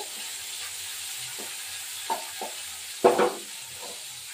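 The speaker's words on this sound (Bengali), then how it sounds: "এই চারটা মোরলা মাছগুলো এবার আমি একটু ভাজা করলাম" Four small mola fish frying in hot oil, a steady soft sizzle with a few louder crackling bursts as the fish settle and are turned, close and alone.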